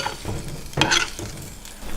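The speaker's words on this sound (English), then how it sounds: "And I'm going to add in half a cup of coconut milk. And mix everything up." Pork belly being stirred with coconut milk in a hot pan for Vietnamese caramelized pork, a steady close sizzle with a brief louder scrape and bubbling burst midway, no voices.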